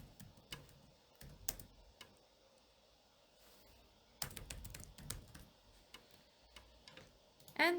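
Quiet, close clicking of keys on a computer keyboard in short irregular bursts with pauses between them, no voices.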